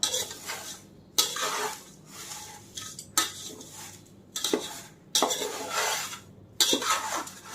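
Thin poha chivda, flattened rice snack, being stirred in a pan: repeated scraping and rustling bursts of spoon against metal in an irregular rhythm, close and fairly loud, with brief quiet gaps between strokes and no talking.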